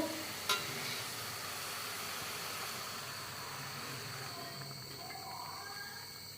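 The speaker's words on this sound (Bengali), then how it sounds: "আমি জল ঢেলে দিব।" A hot pan of pangas fish curry sizzling steadily at a low level, with a faint sharp tap near the start and a soft bubbling simmer continuing on its own.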